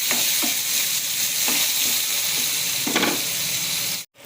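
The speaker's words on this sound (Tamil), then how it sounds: "இப்போது எண்ணெய் கொஞ்சம் ஊற்றிக்கிறதால ஓரத்தில் இருக்குது நல்லா ஃப்ரை பண்ணிக்கலாம்" Chicken sizzles and fries in hot oil as it is stirred in a pan for Chettinad chicken, a steady close crackle with several distinct stirring scrapes and a brief cut at the end.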